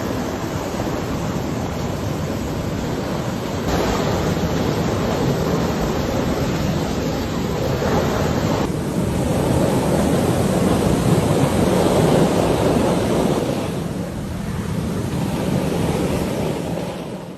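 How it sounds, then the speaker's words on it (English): A burst water pipe in Waterbury, Connecticut, shooting a massive water column up to 175 feet high, a loud steady roaring gush of spraying water heard alone. "A burst water pipe in Waterbury, Connecticut, created a massive water column reaching up to 175 feet high."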